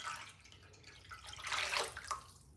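Boiling water pours into a pot for spaghetti that already has oil in it, a faint, close splashing trickle that builds toward the middle and then tapers off over about two seconds.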